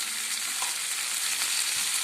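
Taro root pieces fry in oil in a pan, giving a close, continuous hiss of sizzling with light stirring noises throughout and no one talking.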